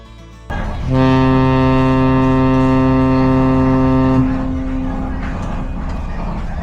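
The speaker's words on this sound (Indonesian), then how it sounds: "Klakson KM Kelut kembali bergema, menandai detik-detik perpisahan dari dermaga Tanjung Priuk." A loud, deep ship's horn from the passenger ship KM Kelud departing Tanjung Priok harbour blasts steadily for about three seconds, rich in layered tones, then cuts off, leaving a busy background murmur.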